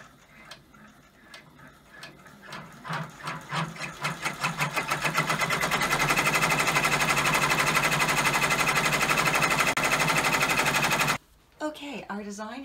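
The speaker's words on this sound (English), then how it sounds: "then it will stitch those decorative circles and division lines, and then the outer satin stitching" An embroidery machine stitches a decorative design of circles, division lines and satin stitching in a hoop. Its rapid ticking starts up and steadily builds into a loud, continuous mechanical chatter, then stops abruptly near the end before a brief resumption.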